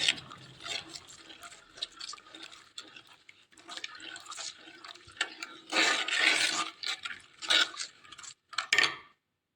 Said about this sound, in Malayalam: നമുക്ക് പുളിവെള്ളം ഒഴിച്ചു കൊടുക്കാവേ